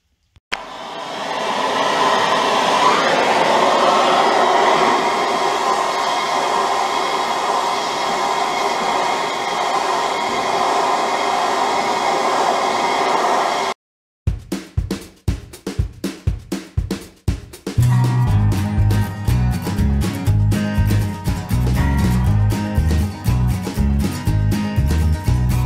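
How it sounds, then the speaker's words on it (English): An oxyacetylene torch heats a seized snowblower part, giving a loud, steady roaring hiss that runs unbroken for about fourteen seconds and then cuts off abruptly. "So we're going to go get the oxyacetylene tanks and wheel them out here and start warming this thing up."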